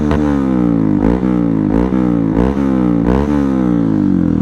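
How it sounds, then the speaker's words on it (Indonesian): Honda CRF 150L trail motorcycle with a Tridente F19 exhaust revving in racing mode: loud, close engine note repeatedly climbing in pitch and dropping back, about five rev surges in steady succession with no talk. "Ini mode racing."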